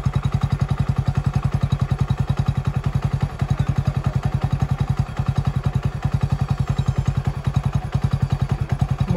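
Toy AK-47 light gun with a plastic body and its motor mechanism running, giving a loud, fast, steady mechanical rattle that buzzes on without pause throughout.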